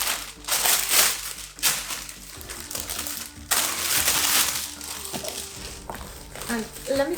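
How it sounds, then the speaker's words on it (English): Paper wrapping gets pulled away and crinkled out of a Chanel boot box, with several loud crunchy bursts of crumpling and rustling at close range amid quieter handling. "remove the paper."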